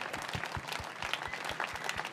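A crowd claps in steady applause at a new tram premiere, a dense patter of many hands at moderate distance.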